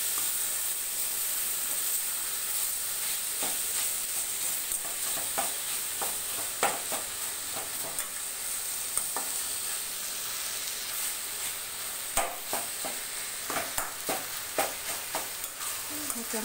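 Mutton mince for cutlets is mixed and fried in a pan, giving a soft steady sizzle under repeated spoon scrapes and clacks that grow sharper and more frequent toward the end, close by and without talk.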